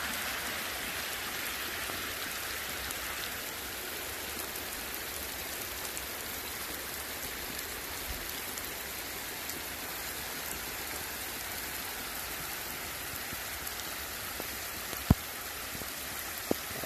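Steady rain pours on a rural farm in São Caetano, Brazil, on Christmas Eve, a dense even hiss of drops on surfaces that runs unbroken throughout with a couple of faint knocks and no voices.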